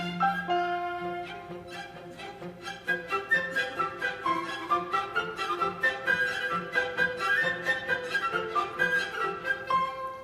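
Aaron Copland orchestral music, a pioneer-ballad tune carried over a loping horseback rhythm, with steady repeated accompaniment pulses under sustained melodic lines, full and continuous with no talking.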